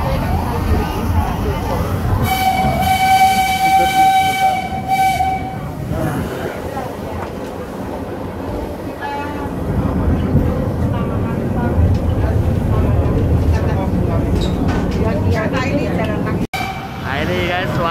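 Ride aboard the vintage Jaladara steam train pulled by locomotive D1410 on a city street route to Solo Kota, with a loud horn blast early on, rumbling carriage noise throughout and chatter from passengers.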